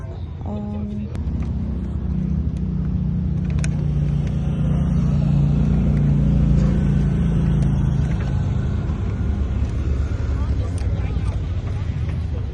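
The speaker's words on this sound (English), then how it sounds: "We'll push the throttle all the way to the floor and I'll look in the hole." A 1992 coupe drag car's engine at a dragway drones loudly and steadily with the throttle pushed to the floor, a low sustained roar with some wind buffeting, after a brief voice at the start.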